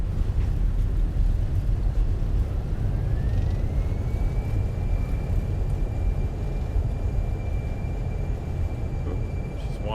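A320 in a flight simulator game on landing rollout with thrust reversers deployed: a loud, steady broadband roar of engines and rushing air holds throughout, with a rising whine settling into a sustained tone partway through.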